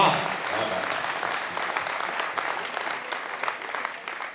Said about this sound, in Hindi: जितने बैठे हैं एक बार ताली बजाकर बताएं